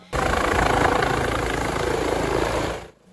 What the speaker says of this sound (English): It's not every day you see a state police helicopter land in front of the middle high school